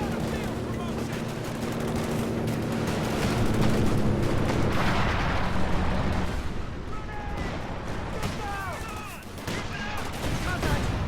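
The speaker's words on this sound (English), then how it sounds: "LMGs now rolling onto his riflemen, and they're so strong with those LMGs at long range." Light machine gun fire rattles through a video game battle between riflemen squads, sustained gunfire bursts at mid distance with explosions and battle noise, continuous for the whole stretch.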